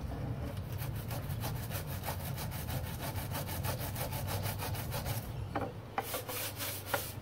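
Teak boat wood on a 1977 Boston Whaler 21 Outrage being scrubbed with cleaner, a fast rhythmic back-and-forth rasping of brush strokes, close and steady, with a brief pause and a few knocks toward the end.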